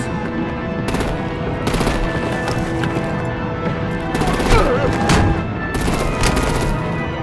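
Gunfire from Batman: A Telltale Series comes in loud, rapid machine-gun bursts over a dense, rumbling action soundtrack. The volleys swell and recede in waves throughout.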